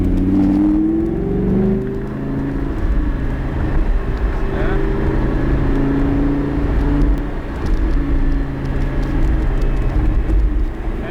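A car accelerating steadily during a driving lesson, its engine note loud and close with a continuous rumbling drone that rises and swells over several seconds.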